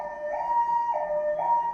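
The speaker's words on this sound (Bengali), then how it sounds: "রাস্তার পাশেই ঘর, গাড়ি যাচ্ছে, অ্যাম্বুলেন্স যাচ্ছে, শব্দ পাচ্ছেন নিশ্চয়ই।" A loud ambulance siren wails, alternating between two tones in a steady back-and-forth cycle, heard without voices.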